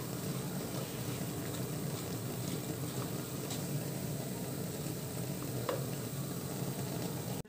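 A stovetop pot of potatoes and meat boils with a steady bubbling hiss and occasional small pops, close by and without voices.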